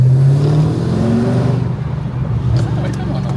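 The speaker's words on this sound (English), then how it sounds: "so even with the pipes opened up, it sounds real quiet" Holden VE SS ute with a V8 engine and its exhaust pipes opened, a deep steady engine rumble close by, fading slightly partway, with voices talking over it.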